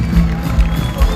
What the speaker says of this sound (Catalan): Un fort aplaudiment per Sant Celoni.